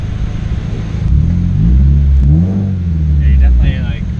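A big-turbo 2015 Subaru WRX on a time attack run revs hard, its engine note rising quickly toward the limiter with a deep, loud rumble, easing briefly, then climbing again as a voice speaks over it near the end.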